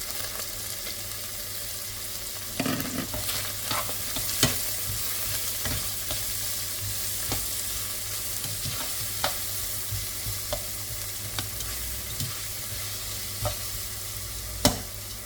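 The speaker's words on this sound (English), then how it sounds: "I'm going in the same pot, I'm going to add one large" One large onion frying in a pot before lamb shanks go in, a steady close sizzle with low background hum and frequent scattered clicks and scrapes from stirring.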